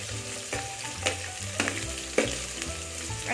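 Long-sliced onions frying in hot oil for vegetable pulao, a continuous crackling sizzle with a few sharper spatters, under steady background music.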